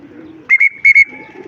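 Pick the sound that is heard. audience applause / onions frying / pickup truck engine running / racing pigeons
racing pigeons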